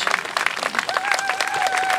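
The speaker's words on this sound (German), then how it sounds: "Und das braucht nochmal einen ganz großen, lauten Applaus" Loud audience applause and cheering fills a rally held for Assange, Chelsea Manning and Edward Snowden, dense clapping sustained throughout with a whistle or shrill voice rising over the crowd.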